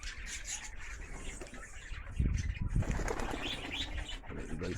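Old and young pigeons return to their loft, with a burst of flapping wings in the middle and soft coos and chirps around it, heard close against outdoor ambience.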